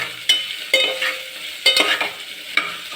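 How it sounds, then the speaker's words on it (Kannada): Potatoes frying in a pan for rice pilaf are stirred in repeated scraping strokes, each a sharp scrape over a steady close sizzle, with no voices. "ನೆಕ್ಸ್ಟ್ ಆಲೂಗಡ್ಡೆ ಹಾಕ್ತಾಯಿದ್ದೀನಿ. ಚೆನ್ನಾಗಿ ಮಿಕ್ಸ್ ಮಾಡಬೇಕು"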